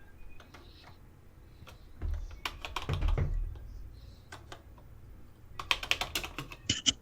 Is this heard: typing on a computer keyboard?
yes